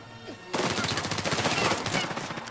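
Rapid automatic gunfire in Uncharted 4 bursts in suddenly after a short quiet moment and continues as a loud, dense, sustained volley of shots until the end.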